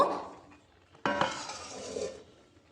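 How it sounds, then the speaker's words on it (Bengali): A lid is set onto a pot of potatoes boiling in water, making one sharp metallic clank that fades into a brief soft rattle, close by and without speech. "এখন আমি ঢাকা দিয়ে আলুটাকে সেদ্ধ হতে দেব"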